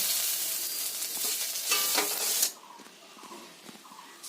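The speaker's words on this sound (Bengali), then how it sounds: "যতটুকু তেল আমাদের দরকার হয় ততটুকু তেলে আমরা রান্না করি দিয়ে দেব হলুদ গুঁড়ো" Spices fry in oil with turmeric powder for an omelette curry, a loud close hiss that runs steadily for about two and a half seconds, then drops abruptly to a quieter sizzle with faint clinks.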